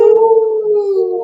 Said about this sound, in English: The wind begins to howl.